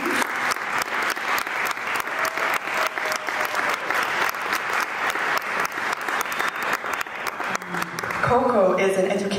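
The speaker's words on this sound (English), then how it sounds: "A big applause for Kokonelle." An audience applauds for a speaker introduced at a solidarity event on Sudan, Congo and Palestine, with steady, dense clapping that carries on throughout before thinning out near the end as other sounds enter.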